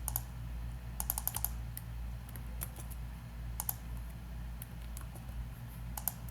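Someone types an email address on a computer keyboard, with quick bursts of light key clicks separated by short pauses, quiet and close over a low hum, with no talking.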